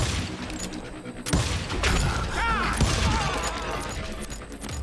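Gunfire in the Western shooter Call of Juarez: Gunslinger: loud, repeated shots crack out in a steady volley after an opening burst, with a voice briefly heard over the firing.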